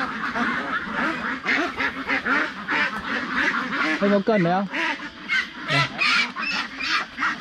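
Farm ducks quack repeatedly in a noisy, irregular chorus with honking calls, mixed with people talking nearby throughout.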